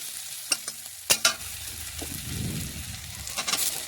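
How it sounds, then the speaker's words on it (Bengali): Chopped tomato frying with onion in a pan gives a soft sizzle, broken by several sharp scraping clacks of a spatula stirring against the pan. "টমেটো ভালোভাবে পেঁয়াজের সাথে একটু ভেজে নিচ্ছি"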